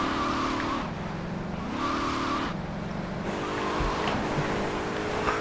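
Car in the video game GTA 3 skidding and squealing its tires, with a steady engine drone and repeated swooping tire screeches, loud and close with no talking.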